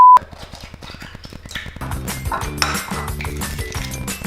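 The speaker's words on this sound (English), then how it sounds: "Now you grab a bowl, put around two eggs." Two eggs are cracked into a bowl: a run of quick, bright clinks and taps of shell against the bowl, close and fairly loud, followed by busier clattering of the bowl and utensils.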